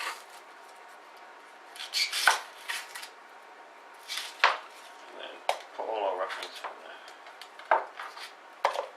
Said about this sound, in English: Let's cut the ends off.